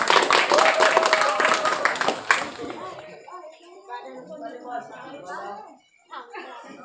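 Applause and clapping from an audience at a literary evening for the Saraswati holiday in Buol, greeting the second-place winner: a loud burst of dense clapping for about three seconds, then fading into scattered claps with children talking over it.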